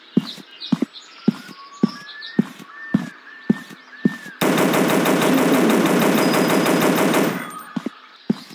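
Sustained rapid automatic gunfire from a weapon in the mobile hunting game Dinosaur Hunter, a loud continuous burst lasting about three seconds, preceded by a series of sharp single shots and clicks.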